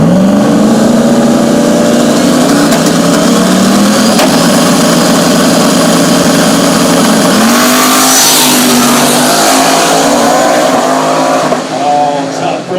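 A 1995 Mustang drag racing car at KD Dragway roars loudly as it accelerates down the strip, its engine pitch rising steadily and shifting partway through, with an announcer talking over it.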